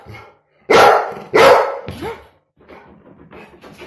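A dog barks loudly and close by, two strong barks followed by a shorter yelp, then softer whining or low vocal sounds trail off in an indoor home setting.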